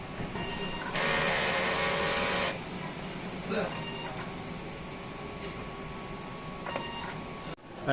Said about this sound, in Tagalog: Ito naman po ang tamang pag head clean.